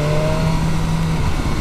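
A 2021 BMW S1000R naked motorcycle with a straight-four engine, heard as a loud, close, continuous engine roar with a steady, slightly sliding tone, with no one speaking.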